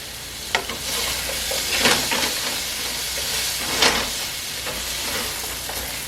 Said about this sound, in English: Go ahead and kind of stir that in and let that be wilting down